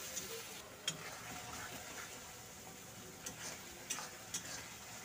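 Onions and green chilies for dried fish bhuna sauté in a pan with a faint continuous sizzle and a few sharp spoon clicks against the pan, quiet and close.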